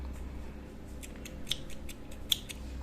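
Scissors snip through crochet yarn in a couple of crisp, close clicks, the sharpest cuts landing about a second apart over a quiet room, with no talking.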